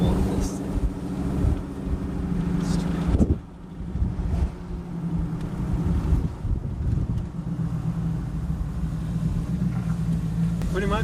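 A tuned, cammed Chevrolet Silverado truck drives along a residential street, its engine a steady low rumble with wind buffeting throughout and one brief dip partway through.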